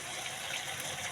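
Water pours steadily into a pot of sautéed vegetables, sweet potato leaves and Malabar spinach, in a home kitchen, a close continuous gushing splash.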